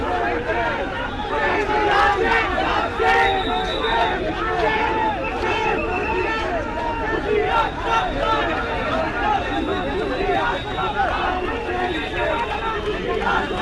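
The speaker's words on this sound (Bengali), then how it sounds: "তারা পুলিশ এবং সেনাবাহিনীকে উপলক্ষ করে বিভিন্ন স্লোগান দিয়ে যাচ্ছেন" Crowd of July fighters and students in a standoff with police and army at Dhanmondi 32, shouting slogans in a dense, continuous roar of overlapping voices and babble that stays loud throughout.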